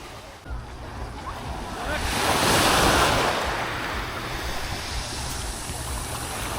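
Sea waves wash onto a clean beach in Budva, a broad surf rush swelling to a peak and easing back into a steady hiss, with light wind noise across the microphone.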